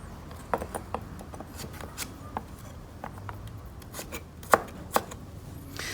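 A knife finely cuts a carrot into julienne on a board, a quiet series of irregular crisp chopping taps and slicing scrapes with a couple of sharper knocks, no talking.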